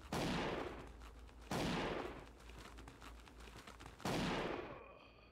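Three loud, booming video game gunshots fire a second or two apart, each with a sharp attack and a long decaying tail.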